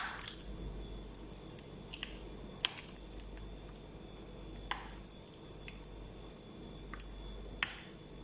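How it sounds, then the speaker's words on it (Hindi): Chicken being mixed by hand with spices in a marinade, quiet wet squishing and sporadic sharp clicks and smacks over a faint steady hum. "अब इसे भी ऐड करके इसे अच्छे से मिक्स करना है"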